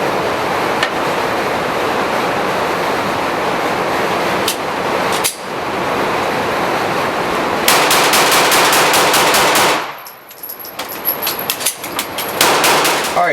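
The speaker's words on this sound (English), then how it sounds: "So we're going to first function test it with regular ammo." Glock 26L pistol firing regular ammo outdoors during a function test, a long stretch of dense rapid shots followed by a quick regular string of shots, a short lull, then more shooting, loud and near with no talking.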